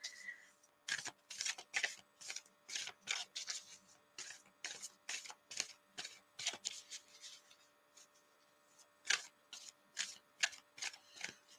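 A deck of oracle cards being shuffled by hand, quick riffling bursts repeating in a steady rhythm with short pauses, close and crisp, with one brief gap partway through.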